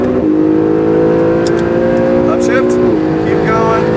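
A race car engine at full throttle on a track, loud and close, holds a steady droning roar, with gear-change dips just after the start and near the end. A voice speaks briefly over it.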